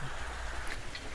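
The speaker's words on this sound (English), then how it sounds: "I don't know if you can hear that or not, but it's pouring down rain outside, so Abby, no." Heavy rain pours down outdoors as a steady, faint broadband hiss with no breaks and no voices.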